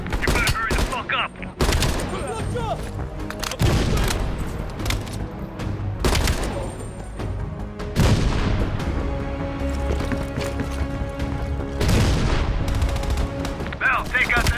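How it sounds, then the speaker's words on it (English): Heavy machine gun fire rakes a ridge in Call of Duty: Black Ops Cold War: loud, repeated bursts of rapid gunfire and booming impacts keep coming at intervals across the battle, with occasional voices in the mix. "Heavy MG on the ridge."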